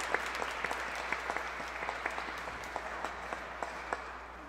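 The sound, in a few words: applause in church for a newly baptized child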